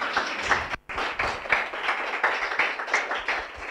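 An audience claps steadily at a women's entrepreneurship panel session indoors, a dense patter of many hands that breaks off briefly and resumes, moderately loud and fairly close.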